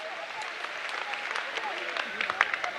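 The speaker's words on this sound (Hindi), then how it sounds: "ताली बजाओ इस बच्चे के लिए।" Audience applause for a child at a Bageshwar Dham gathering, a steady dense wash of clapping from a crowd lasting throughout, fairly soft and even with a few sharper individual claps standing out.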